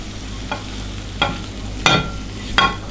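A spatula stirs fried cireng through a mixture in a pan, giving four separate scraping strokes over a steady low sizzle.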